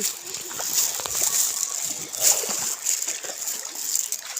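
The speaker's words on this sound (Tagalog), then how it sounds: "Sige, magtampisa muna kayo sa malamig na ilog." Water splashing and sloshing as several people wade in a cold river, a steady broad wash of watery splashes throughout with faint voices at times.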